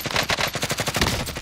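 Rapid automatic gunfire in the battle royale video game Warzone: a dense burst of evenly spaced shots, loud and close, lasting over a second with no speech.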